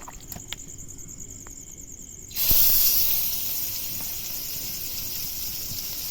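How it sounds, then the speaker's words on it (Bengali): Pangas fish, rubbed with turmeric, salt and chili powder, dropped into a hot pan to fry in its own oil: quiet kitchen ambience, then a sudden loud sizzle that settles into a steady hiss. "পাঙাশ মাছ খুব বেশি তেল লাগে না মাছের থেকে যে তেলটা বের হবে সেই তেলে ভাজা হয়ে যাবে"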